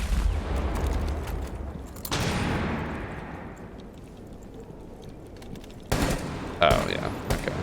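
Rapid gunfire in a competitive shooter video game, a dense burst of shots opening and a second volley near the end, with a steadier stretch of game noise between.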